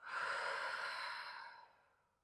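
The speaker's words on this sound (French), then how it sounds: "on inspire par le nez, on expire par la bouche" A single long, soft exhale during a yoga breathing exercise, air breathed in through the nose and out through the mouth, close and steady, fading gradually over about two seconds with no talk.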